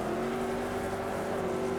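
Porsche race car engine in the Automobilista 2 racing game, a steady, fairly quiet sustained drone held at an even pitch for a brief stretch with no talk.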